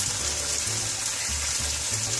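Water poured into a pot of Indian-style chicken stew (jhol) on the stove, a soft continuous splashing hiss with low bubbling pulses, fairly quiet and without speech.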